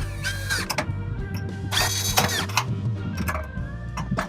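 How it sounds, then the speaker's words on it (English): A cordless drill whirs in short bursts to wind a trailer hitch jack into position, with ratcheting mechanical clicks and a steady low hum beneath, close by with no talking. "the drill isn't meant to tighten anything, it's just getting us in position"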